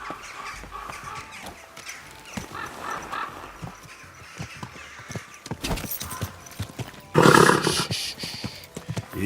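Horse in Kingdom Come Deliverance 2: steady clip-clop of hooves with rustling movement, then a louder burst near the end that may be a whinny, all fairly close with no talk.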